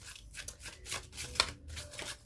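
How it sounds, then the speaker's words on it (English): A deck of tarot cards shuffled by hand during a card reading, producing soft, quiet riffling and sliding bursts in an uneven rhythm, close and alone. "I'll give it one more shuffle."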